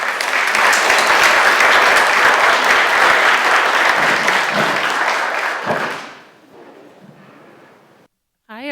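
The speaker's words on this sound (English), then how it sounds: "Let's all give a very warm round of applause to Diana Thompson" Warm audience applause welcoming Diana Thompson at a National Academy exhibition event, dense and loud for about six seconds, then fading quickly into near silence.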